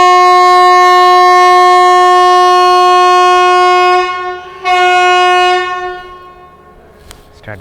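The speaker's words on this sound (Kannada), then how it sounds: "ಹಾರನ್ ಹಂಗೆ ಕೂಡ ಕೊಟ್ಟಿದ್ದಾಯಿತು." A Malgudi Express train sounds a long, loud, steady horn blast close by, with a brief dip before it resumes and cuts off, followed by rumbling rail noise.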